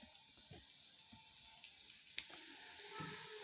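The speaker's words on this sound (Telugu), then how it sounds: "ఇప్పుడు ఇవి ఫ్రై అయినాయండి" Breaded, pre-boiled baby corn deep-frying in hot oil, giving a faint, steady crackling hiss with a few small pops, heard alone.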